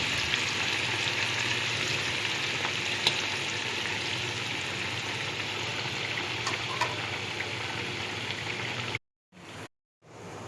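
Food frying in hot oil gives a dense, steady crackling sizzle that stays loud and even for about nine seconds before cutting out in brief gaps near the end.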